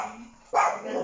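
A dog barks sharply and close once, abruptly cutting in over a voice during a spoken physics lesson.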